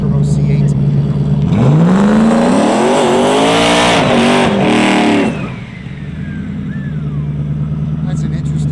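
A 1200 hp JoTech twin-turbo Chevrolet C8 Corvette launches down a drag strip, its engine roaring loudly and climbing through rising revs for several seconds before cutting off and fading, with a faint idling rumble left in the background.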